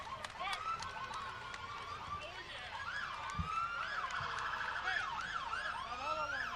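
A Windsor Volunteer Ambulance rolls along a parade route, its wailing siren sweeping up and down in repeated cycles, fairly loud and close, mixed with crowd and street noise and a brief low thump.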